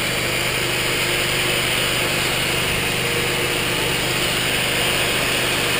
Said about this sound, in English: The vac's on, and the drills are on.